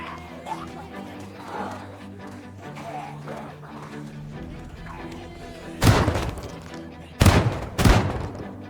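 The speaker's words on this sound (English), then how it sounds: "John can make short work of them with the shotgun" Three heavy shotgun blasts from a video-game character firing on zombies, two close together near the end, loud and booming after a quieter stretch of low game ambience.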